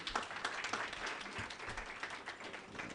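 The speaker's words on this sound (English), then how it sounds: "Please clap for them." Audience applause for conference panelists at an African trade and investment dialogue, a fairly faint, steady wash of clapping throughout with a faint voice underneath.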